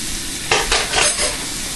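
Onion and a clove of garlic sauteing in a pan, with a steady sizzle and a few brief scraping stirs of a spoon, close and fairly loud.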